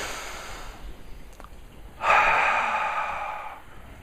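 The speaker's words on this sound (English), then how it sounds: "Take a deep breath." In a group tapping session, a single deep breath is drawn and let out: quiet room tone first, then a loud, airy exhale that swells suddenly and fades over about a second and a half.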